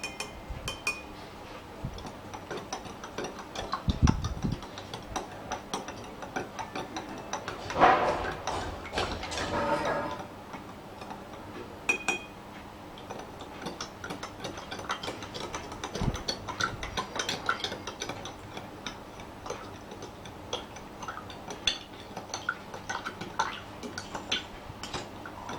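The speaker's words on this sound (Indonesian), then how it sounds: "Jadi ada garamnya ini diaduk agar larut garamnya." Plastic spoon stirring salt into a container of water: faint, scattered light clinks and ticks at a steady pace, with a few louder knocks, heard close but quiet throughout.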